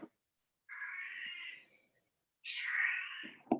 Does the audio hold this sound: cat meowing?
yes